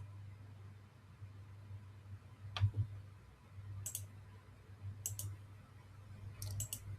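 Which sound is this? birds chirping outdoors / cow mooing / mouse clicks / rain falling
mouse clicks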